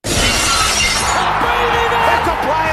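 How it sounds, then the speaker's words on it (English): A loud glass smash sound effect bursts in at once and rings out with scattering shards that thin over a couple of seconds, standing alone with no talk over it. "I think the smashing noise"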